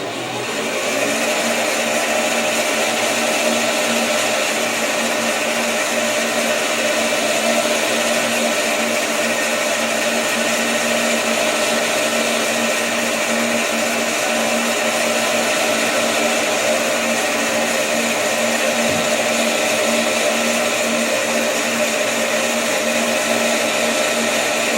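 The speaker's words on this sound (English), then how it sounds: "We'll take a healthy cut and see how this machine reacts." A PM1228VFLB metal lathe takes a heavy cut of about 50 thou, giving a steady, loud, continuous whine and hum that holds unchanged for the whole stretch with no talk.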